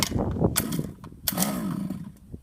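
Gas engine of a Losi 5ive-T RC car, choke on, being pull-started: two or three short sputtering firing bursts and rope-pull rasps, close and fairly loud, with no talk.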